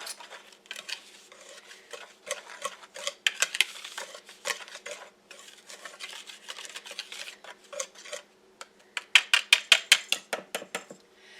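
Dry Bisquick baking mix and other dry ingredients for pumpkin donut holes being stirred in a bowl, with a steady run of light scraping and ticking taps of a utensil against the bowl, growing into a quick burst of sharper clinks near the end.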